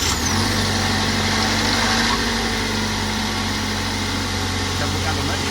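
A Toyota Hiace 2.7 litre petrol van engine idles steadily and close by with a low, even hum after a service. A voice talks faintly over it.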